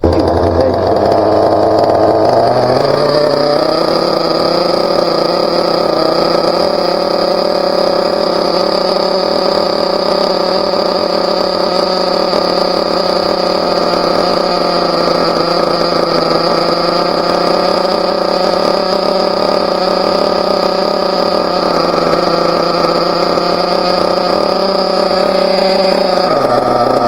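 The nitro engine of a Team Associated MGT 4.6 RC truck runs at a loud, high-pitched buzzing idle, close and continuous, revving up briefly at the start and then holding steady throughout.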